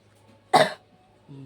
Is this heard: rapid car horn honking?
no